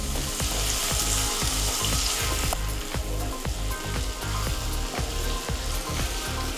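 Chicken seasoned with salt and black pepper sizzles loudly in a pan for chicken soup, a steady dense frying hiss with rhythmic low thumps of stirring throughout.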